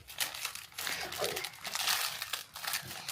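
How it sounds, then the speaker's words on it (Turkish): A plastic toy package crinkles and crackles in bursts as a child struggles to open it, loud and close, with a voice briefly heard underneath. "Anne bu paket niye zor arkadaşlar? Zor açılıyor ya."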